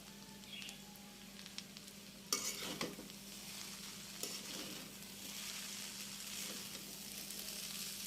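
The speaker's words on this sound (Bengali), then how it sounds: "নুডলসটা একটু ভাজা ভাজা করে নামিয়ে নেব" Chow mein noodles with winter vegetables and chopped coriander sizzle and fry in a pan while being stirred, a steady hiss broken by a few louder scrapes and clinks of the utensil.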